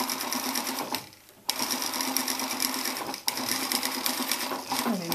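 A sewing machine running steadily and close while topstitching a flat seam on a reversible cape with a large stitch, humming in two bursts separated by short pauses.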